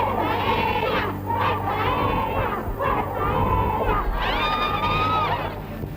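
Outside the Defense Ministry, a crowd at a spontaneous gathering keeps up loud, continuous shouting and chanting, with several raised voices overlapping in waves of cries.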